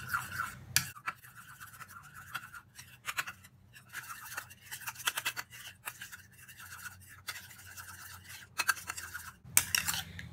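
Soft scraping and tapping strokes of peach paste being stirred with aloe vera gel in a small bowl for a homemade skin remedy, quiet and close, in irregular short bursts with no talk.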